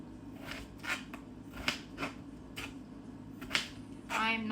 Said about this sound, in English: I'm not very meticulous with my tater cutting.